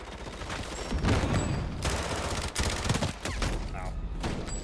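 Sustained automatic gunfire in the Modern Warfare 4 beta with the trigger held down, a dense, loud burst of rapid shots with brief gaps, close and punchy.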